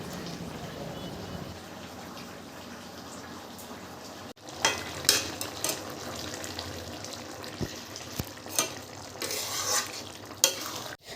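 Prawns with young jackfruit and a splash of water being sautéed in a wok: a quieter simmering hiss at first, then louder spatula scraping and stirring in repeated strokes with a wet sizzle, close by.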